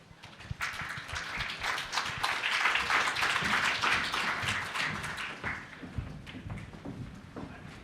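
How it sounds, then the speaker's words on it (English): Audience applause for a panel on NFTs and traditional finance at a conference, a sustained wash of clapping hands building and then tapering over several seconds with no talk. "Please give them a round of applause"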